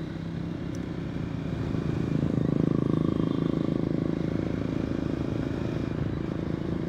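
A Triumph Thruxton 400 single-cylinder 400cc motorcycle cruises in fifth gear at around 4000 rpm, its engine a steady, close droning hum that swells slightly, wrapped in constant wind rush.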